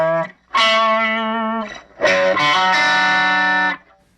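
Electric guitar through an amp with low gain, two sustained chord phrases with a slightly driven, honky tone, played alone and up close.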